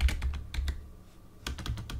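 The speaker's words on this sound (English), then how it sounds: "So I'm going to type guide" Someone types on a computer keyboard nearby in two quick bursts of clicking keystrokes with a brief pause between them.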